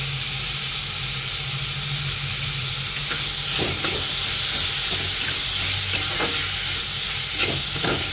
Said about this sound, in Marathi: याच्यात आपल्याला हे लसूण आणि आलं आपण एकत्र कुटून घेतलेले आहे ते टाकून घेऊया।